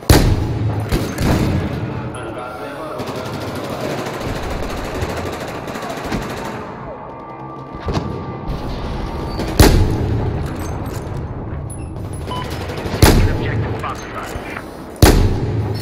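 Heavy sniper rifle shots in the video game Final Stand: Giant of Karelia, each loud crack trailing a long echo, fired several times at irregular intervals over constant battlefield gunfire, with someone talking throughout.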